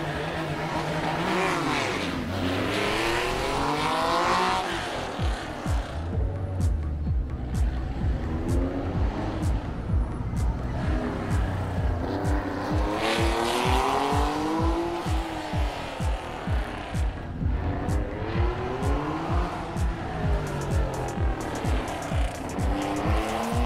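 A rally car at full attack on a special stage of a Swiss mountain rally near Champéry, engine revving hard through rising and falling gear changes, with tire squeal and rapid rhythmic pops, loud and close throughout.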